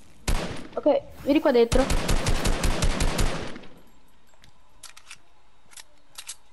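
Rapid gunfire in a shooter video game, a long fast burst of loud, evenly spaced shots, followed by a few faint distant clicks, with an Italian-speaking player talking over the start.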